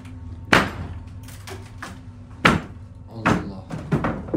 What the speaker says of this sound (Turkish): Ses geldi ama. Şurada bir kapı açık.